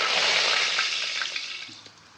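Cumin seeds dropped into hot oil, about one and a half tablespoons, erupt in a loud, steady sizzle that slowly fades over a couple of seconds, with no talking.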